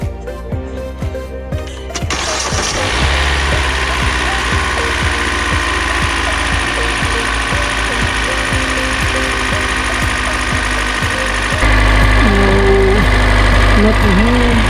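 A 2014 Hyundai Elantra engine cranks and starts, then settles into a steady idle with a slight rise partway through, under someone speaking.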